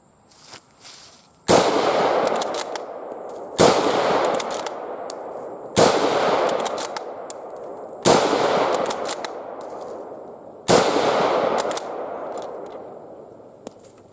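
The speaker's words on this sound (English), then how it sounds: "This is another real nice shooting Swedish rifle." Swedish Husqvarna M38 Mauser rifle fired at a 100-yard range, five loud sharp shots spaced about two seconds apart, each followed by a ringing decay.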